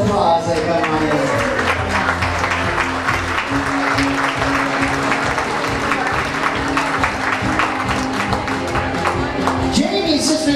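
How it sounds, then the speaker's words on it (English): Sustained crowd applause at a wedding reception as the wedding party enters, steady and loud throughout, with a few cheers and an announcer's voice briefly heard over the clapping. "Give them a round of applause."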